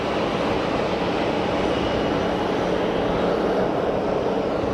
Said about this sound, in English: Swiss slowed the taxi right down.